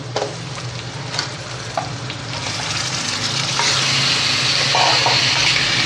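Chicken pieces drop into hot oil with fried onions, setting off a loud, rising sizzle with stirring clinks that swells into a steady close-up crackle.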